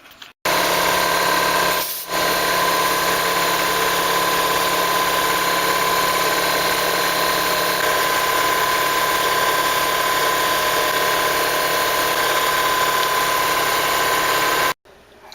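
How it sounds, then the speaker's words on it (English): Ruger P97 pistol parts are deburred against a spinning wire wheel, giving a loud, steady motorized whir with a continuous grinding buzz that runs almost without a break. "I'll just give it one final deburring on the wire wheel"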